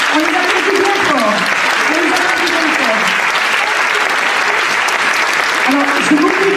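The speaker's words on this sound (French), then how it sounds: "On salue, on les applaudit bien fort." A theatre audience applauds the cast of a Phantom of the Opera production with loud, dense, sustained clapping. Faint voices sound beneath the clapping throughout.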